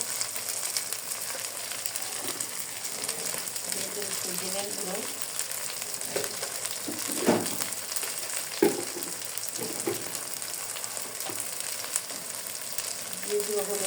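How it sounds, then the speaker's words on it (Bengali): Vegetables with red chili powder and spices frying in a pan, a continuous soft sizzle with faint scraping and a couple of louder clatters midway, and no speech. "ভালো করে ভেজে নিব"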